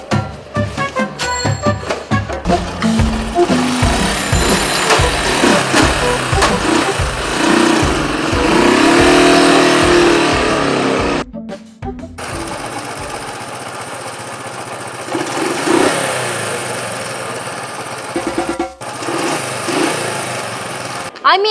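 An old motorbike engine runs nearby with a rough, chugging putter that swells louder midway, then drops to a lower idle after a brief cut, while voices talk over it.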